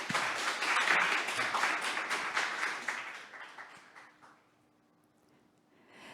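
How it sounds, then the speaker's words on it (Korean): At a Soomgo workshop for service professionals, an audience gives a speaker a dense burst of clapping that holds strong for several seconds, then thins and fades to near silence before a faint sound returns at the end. "다시 한번 박수"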